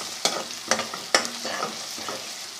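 Onions with garlic-ginger paste fry in a pot for handi kabab, with a steady sizzle broken by several sharp scraping stirs at irregular intervals, close and fairly loud.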